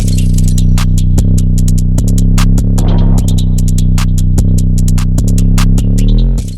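A loud, distorted 808 beat pounds in a driving pattern, with booming bass hits, crisp hi-hat ticks and snare cracks, heavily saturated throughout.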